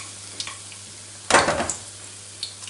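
Egg-soaked torrijas going into hot oil in a frying pan: a quiet simmer, then a sudden loud sizzle burst as a slice is laid in, settling into crackling frying, no speech.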